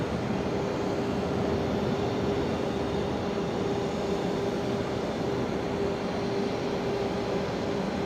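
An Airbus A350-900 departs Brisbane Airport at night with a steady, broad jet roar that carries an even hum and stays constant at moderate distance throughout.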